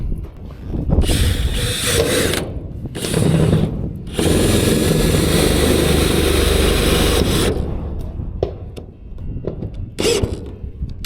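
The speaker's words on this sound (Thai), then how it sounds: "ตรงนี้เป็นสกรู ในการยิงหลังคานะครับ ก็ใช้บล็อกเบอร์ 8 นะ ครับเริ่มตัวแรกเลยนะ" A power tool with a size 8 socket drives screws into a metal sheet roof, whirring loudly and close in several long bursts separated by short pauses, with a few clicks and taps between runs.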